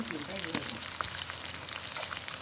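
Pickled fish fries in a pan with a steady, close hiss and crackle of hot oil and occasional small pops, continuous throughout.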